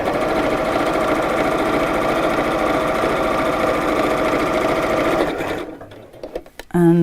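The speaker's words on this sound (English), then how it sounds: "we don't want to sew over the outer fabric." A sewing machine runs steadily as it stitches fabric, a loud, even mechanical whir and rapid needle chatter that stops abruptly near the end, followed by a brief clunk.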